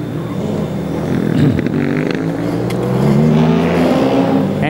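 Formula Student race car from the Roma team at an endurance event, its engine running roughly and not cleanly, with loud, close revving that rises and falls through the clip and tonal harmonics shifting with engine speed.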